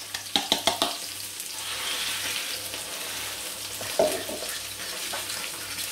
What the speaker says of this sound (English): This other pan that I've got hot, I'm going to put the egg and whisk 4 eggs up in there.